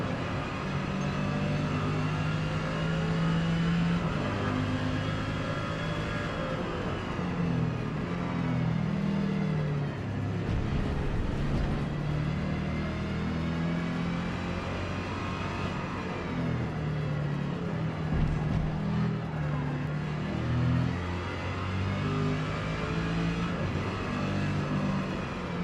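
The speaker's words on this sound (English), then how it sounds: "at least the car sounds nice" A video game race car engine in Forza Motorsport revs and drones continuously, pitch rising and falling through gear changes, loud and close with a low rumble underneath.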